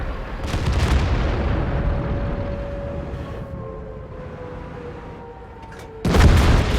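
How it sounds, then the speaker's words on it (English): A high-explosive shell strikes an IS-7 heavy tank in World of Tanks, a dull boom under a steady rumbling engine drone with a faint whine, and a sharper loud impact burst near the end. "And he fires at me with HE."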